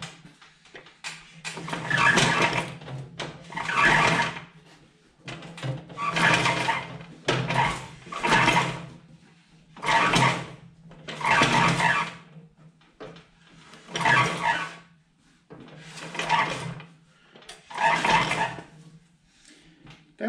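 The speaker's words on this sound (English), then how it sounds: "Definitely has a squeak somewhere." A John Deere 47 snow blower, freshly reassembled with new bearings, is turned by hand in repeated bursts, each giving a scraping squeak; about nine rhythmic strokes, close and fairly loud, no talk.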